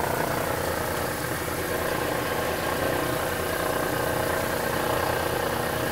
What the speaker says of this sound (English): shall we go ahead and do an engine start for number two?